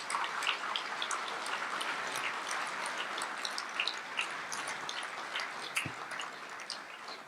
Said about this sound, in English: big round of applause for Rodney and for John.